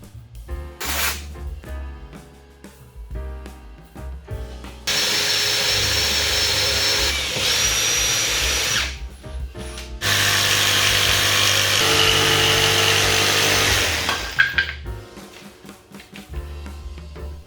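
A power tool cuts a 4-inch duct port for a laser enclosure back panel, whining loudly in two long sustained bursts broken by shorter starts and pauses, close up with no talk.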